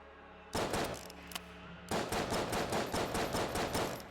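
Rapid bursts of gunfire from the video game Enter The Gungeon crackle in two sustained volleys, loud and close, with a short gap between them and no voices.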